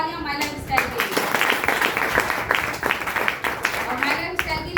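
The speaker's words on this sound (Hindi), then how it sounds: "तो एक बार जोरदार तालियां माय लाइफ स्टाइल के लिए।" Audience applause for the My Lifestyle direct selling company at a leadership event, a dense, sustained clatter of many hands clapping with voices mixed in throughout.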